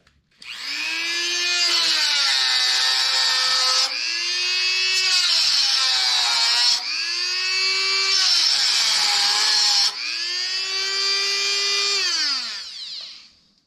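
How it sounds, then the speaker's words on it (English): A Dremel rotary tool cuts a rubber piece off a Wheel Horse tractor, its high harmonic whine running in four long bursts of about three seconds each, with pitch sagging under load, loud and close with no talk. "Got a little Dremel tool here."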